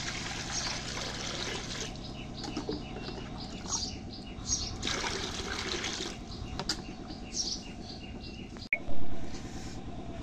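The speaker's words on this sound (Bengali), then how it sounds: "এখন কালাইটার মধ্যে পানি দিই।" Water runs steadily from a tap or vessel into washed black gram (kalai), a continuous close splashing and trickling with faint bird calls in the background.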